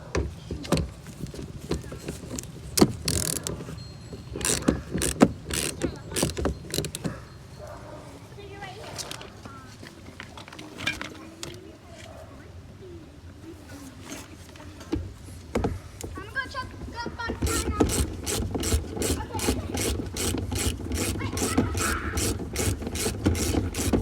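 Socket ratchet clicking in quick bursts as 10mm bolts are loosened from an Infiniti G37 coupe door panel, with someone talking in between and a long fast run of clicks near the end.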